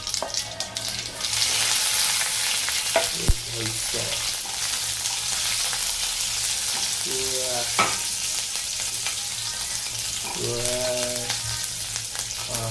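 Mustard seeds, curry leaves and chili hiss and crackle in hot oil for upma, a steady close sizzle with a few sharp pops and brief squeaky stirring scrapes.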